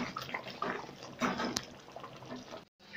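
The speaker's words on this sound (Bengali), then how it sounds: "এবার আমি এটাকে সুন্দরভাবে পাত্রে ঢেলে তোমাদের দেখাচ্ছি" Cooked veg mutton curry slides and splashes from a pot into a serving dish, a close, wet pouring sound with a few scraping knocks and a brief silence near the end.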